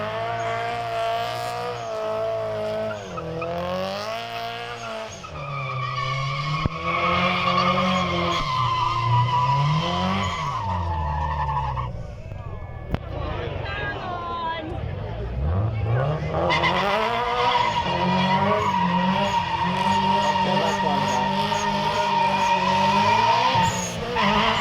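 Subaru WRX STI at a muscle car show, engine revving hard with tyres spinning and squealing, loud and continuous with rising and falling pitch, crowd voices faintly underneath.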